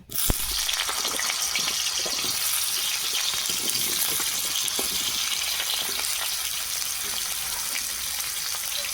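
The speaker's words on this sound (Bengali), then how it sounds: "তেল গরম হয়ে গেছে আলু দিয়ে দেবো" Potatoes hit hot oil with a loud, steady sizzle and bubbling crackle that carries on without letup, close up and alone.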